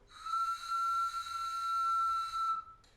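A single sustained, pure whistling tone from a pre-Hispanic duct flute with an animal-shaped design, steady and clear for about two seconds, then cutting off abruptly.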